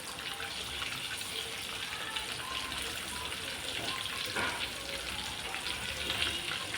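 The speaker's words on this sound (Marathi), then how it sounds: "मीडियम गॅसवर फ्राय करून घेऊया" Fish fillets coated in masala frying in a pan over medium gas, giving a steady, soft, even hiss throughout with no distinct pops.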